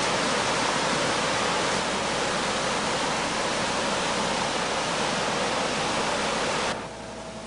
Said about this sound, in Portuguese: você vai encontrar mais uma beleza natural, a Cachoeira da Usina